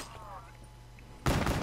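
Gunfire in the Black Ops 3 Shadows of Evil zombie mode bursts out loudly near the end after a quieter stretch of game sounds.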